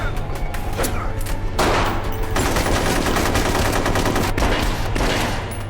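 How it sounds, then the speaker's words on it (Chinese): Rapid gunfire from a film action scene: dense bursts of sharp shots and crashing impacts roll almost continuously, loud and close, over a low rumbling score. "短短几秒钟，他就开枪干掉绑架苏西的人，成功将他救出"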